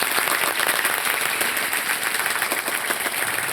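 An audience applauds at a Mangalagaur festival performance, steady dense clapping that holds loud and even throughout, with no one speaking over it.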